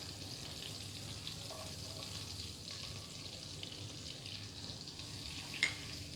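Chopped garlic sautéing in melted butter over a high flame gives a steady, faint, even sizzle with no talking.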